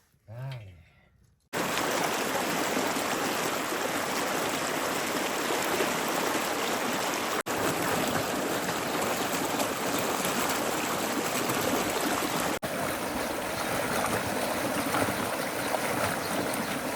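Spring water gushing steadily from a hose in a rural Iranian desert village, a loud, even rushing flow that starts abruptly after a short quiet moment and runs on without a break.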